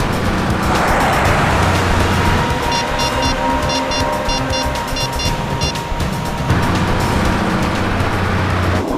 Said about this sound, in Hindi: बस गाड़ी ठिकाने पर पहुंच रही है।